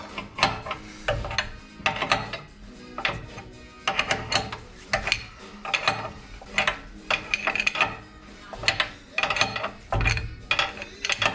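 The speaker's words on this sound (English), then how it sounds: "let's pull it through on the bolt" A Lambretta silent block is drawn through its housing on a bolt, giving repeated ratcheting clicks and metallic creaks in bursts under a spanner, close and fairly loud, with short pauses between strokes.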